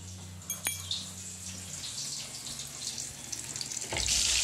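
Fish fries in a small kadai with a faint, steady hiss, broken by a sharp metallic clink early on and swelling louder in the last half second.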